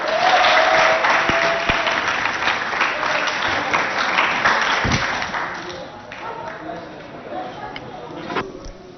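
Loud applause from a crowd at a high school competition in Abéché, Chad, steady at first and then thinning out, with a voice heard over the clapping.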